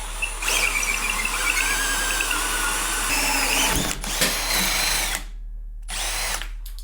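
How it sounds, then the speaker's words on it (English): An impact driver fitted with a hole saw chews through a board, a loud whining, rattling drill with squealing bites and short pauses, stopping abruptly then starting again briefly. "I've never tried to use an impact with a hole saw before."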